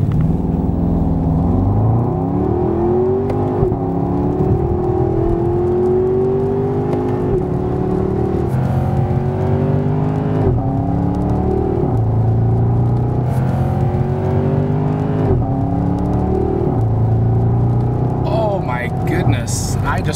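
A 2014 Porsche Panamera engine pulls through repeated gear changes, each rising whine of acceleration dropping at a shift, heard from inside the car with a constant low road rumble.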